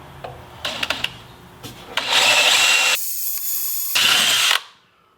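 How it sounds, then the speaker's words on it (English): A power drill whirs loudly in bursts, drilling out a metal tube before tapping it, with scraping and tapping sounds before and between the runs. "let's drill this out and tap it"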